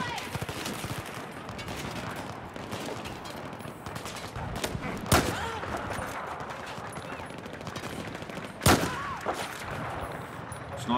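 Sustained automatic gunfire in Battlefield 4 on the Suez map, dense and continuous with a few louder, sharper blasts standing out, voices faintly under the shooting.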